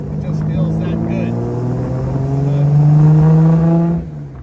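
The engine of a 1952 Jaguar XK-120 SE roadster pulls hard and close, its steady drone rising in pitch through a gear before the throttle lifts near the end, heard from inside with some talk over it.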